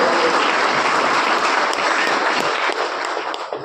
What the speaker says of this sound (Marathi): त्यामुळे खूप मोठ्या टाळ्यांचा गजर